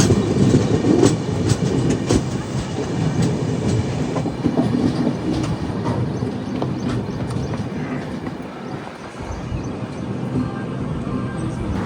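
The Raptisagar Express passenger train rolls along the rails in Telangana, a loud steady rumble with repeated clickety-clack wheel beats and metallic rattles, heard close from on board without voices.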